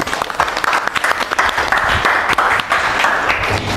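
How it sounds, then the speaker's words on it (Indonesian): An audience at a university teaching session claps for the group presentations: dense, steady applause from many hands, loud and close, lasting throughout. "Kita beri aplaus untuk semuanya."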